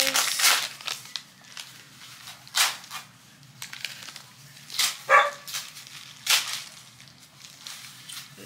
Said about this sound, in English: What are you barking at, huh? You wanna bark at people.